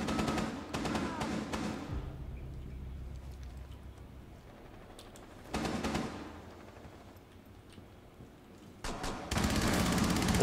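Rainbow Six Siege gunfire comes in three separate bursts of rapid automatic shots, loud against a quieter in-game background and broken by pauses.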